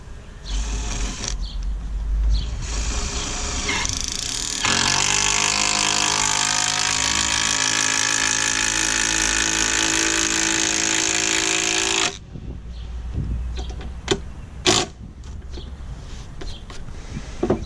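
Cordless power driver sinks a timber lock screw into wood while building a raised garden bed, a loud sustained whirring burst of several seconds between quieter handling clatter.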